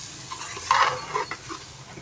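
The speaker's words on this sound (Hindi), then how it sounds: "अब दरमियानी आंच पे हमने इसकी इसी तरीके से और बुनाई करनी है मज़ीद" Chicken for white karahi frying in a wok over medium heat, with soft sizzling and a few scraping stirs of a utensil, close and fairly quiet.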